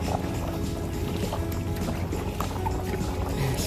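A kayak is paddled on open water, with a steady wash of water and soft rhythmic paddle strokes under faint wind, close to the microphone.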